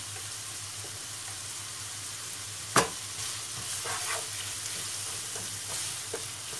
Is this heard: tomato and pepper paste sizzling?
yes